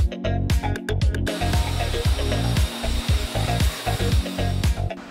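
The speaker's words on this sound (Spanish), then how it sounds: "Vamos a quitar toda la tierra y polvo suelto con un aspirador y un cepillo." Brushing loose dirt and dust off a car engine while a vacuum runs, giving repeated scratchy bristle strokes in an uneven rhythm over a steady, loud hum, with no talking.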